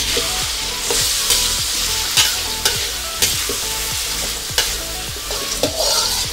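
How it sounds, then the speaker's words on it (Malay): Meat sizzles loudly in a hot wok while a utensil scrapes and clanks against the metal in a steady, repeated stirring rhythm, cooking kway teow. "So, kita goreng."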